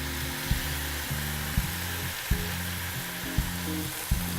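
Warm stock hits a hot pan with a steady hiss and sizzle while a utensil scrapes in regular stirring strokes about once a second.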